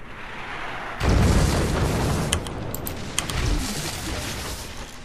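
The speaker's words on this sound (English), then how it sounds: "Shields simply cannot handle heavy mortar shots." Heavy mortar rounds slamming into energy shields in the strategy game Forts make a loud, sustained rumbling barrage that opens abruptly after a second of quiet, with a few sharper cracks and pops layered over the continuous booming.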